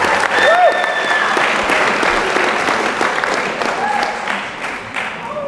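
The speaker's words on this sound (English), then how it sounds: "So let's give a round of applause to the graduates of" Audience applause for high school graduates of 2021 at a Minnesota Math and Science Academy ceremony, a dense, steady wash of clapping that carries on throughout, with a few faint voices and cheers mixed in.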